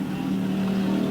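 A race car accelerating at the 1991 Gasport race meeting, one steady engine drone holding a strong low tone at moderate distance, with no pass-by swell and no voices over it.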